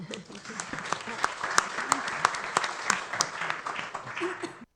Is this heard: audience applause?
yes